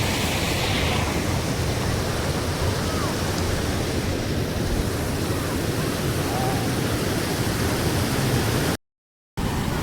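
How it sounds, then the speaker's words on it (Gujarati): Water rushing at Malek Por dam, a steady loud broadband roar of flowing water that fills the whole stretch, close by, with a brief dropout near the end and no clear talk. "પાણીનો અવાજ આવતો હશે, મારો અવાજ ઓછો હશે"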